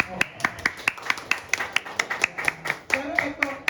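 Hands clap in a quick, steady run of sharp, close claps, with a voice briefly heard underneath.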